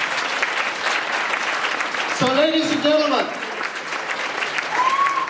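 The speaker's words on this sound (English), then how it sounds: "So you might give a big round of applause for Kevin." An audience claps in warm, sustained applause at the Wexford Rose of Tralee 2022 event, while someone speaks over it into a microphone.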